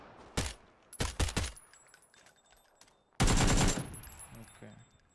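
Automatic gunfire in PUBG on Xbox Series X, heard as a few short rattling bursts and then one longer sustained burst, all faint in the game mix.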